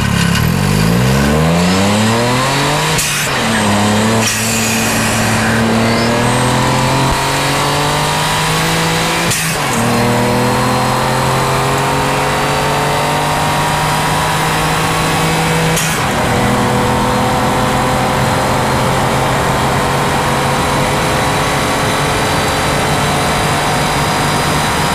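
A Ford Fiesta with a 1.0-litre three-cylinder EcoBoost engine, tuned to stage 2, revved hard several times: loud, close engine sweeps climbing and falling, with sharp pops and bangs between them over a constant roaring background.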